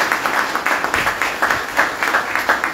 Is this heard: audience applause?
yes